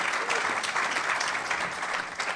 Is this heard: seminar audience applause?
yes